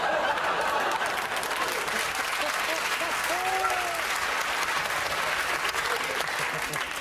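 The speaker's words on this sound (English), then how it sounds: "Round of applause, you genius." Studio audience applause at a British comedy panel show taping, a dense, steady wash of clapping lasting the whole stretch with some faint chuckling mixed in.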